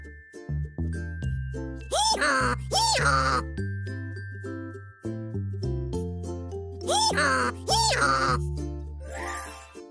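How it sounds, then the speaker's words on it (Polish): A farmyard donkey brays in two loud, wheezing bursts, a few seconds apart, over a cheerful children's music track. "Osioł."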